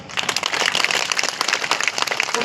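An audience breaks into loud, sustained applause in honour of the chief guest at a public gathering, many hands clapping in a dense, close, unbroken burst.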